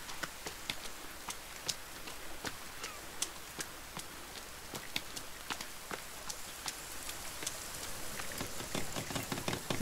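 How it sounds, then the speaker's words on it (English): Rain falling in the survival game The Forest, a steady patter of drops with scattered sharper ticks on surfaces, faint but constant. "Is it raining again?"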